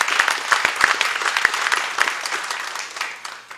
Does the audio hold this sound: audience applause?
yes